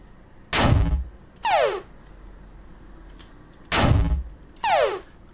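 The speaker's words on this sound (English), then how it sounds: "It's quite a hard hitting explosion." Two pairs of heavy booming explosion effects from a Java Space Invaders game, each a deep blast followed by a springy ricochet, separated by a short pause.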